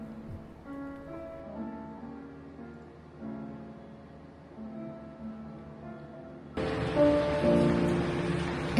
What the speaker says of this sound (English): It started really raining pretty hard at the previous cafe